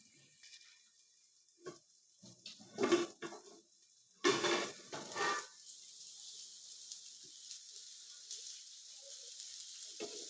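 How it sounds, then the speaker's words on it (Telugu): A kadai lid clanks as it is lifted off the pan while tamarind chutney cooks, giving a few metallic knocks and scrapes, followed by a steady soft sizzle from the pan. "మనము మళ్ళీ ఇంకొకసారి ఓపెన్ చేసి అంటే తీసేసి కడాయి మూత చెక్ చేసుకోవాలి"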